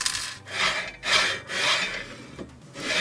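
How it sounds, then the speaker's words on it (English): A machine bed slides back and forth on its rails several times, each pass making a rough, wooden-sounding rasping rub that swells and fades in a steady rhythm, close and fairly quiet with no talking. "we are going to slide the bed on the rails back and forth a few times"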